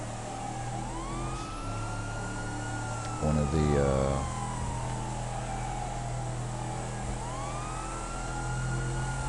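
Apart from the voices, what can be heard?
vehicle sirens in GTA Online, video game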